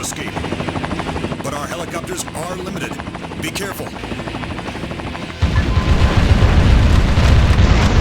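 A video game helicopter's rotor chops rhythmically close by under a voice, then a louder burst of engine roar takes over near the end.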